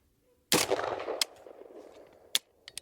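A Brownells BRN-180 Gen 3 rifle fires its last rounds from a P-mag: one loud sharp shot, then a couple of further cracks and some fainter clicks and clatter with no talk.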